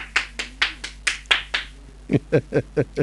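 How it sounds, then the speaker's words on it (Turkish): A little girl claps her hands at home, about eleven sharp claps in a steady rhythm, close and clear, with a few louder, fuller claps near the end. "Kendime alkış, alkış!"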